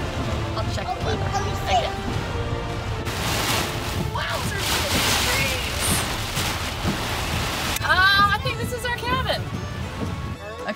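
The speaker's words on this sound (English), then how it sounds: "look at this rain" Heavy rain from a severe thunderstorm pours down in a dense, steady roar, with a voice speaking and some other sounds over it.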